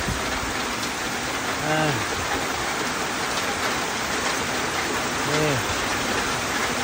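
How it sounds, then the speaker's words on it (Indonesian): Steady rain falls in a dense, even hiss that stays constant throughout, while a voice briefly speaks twice in the background. "Oke Franz Jakob, oke musim hujan sekarang"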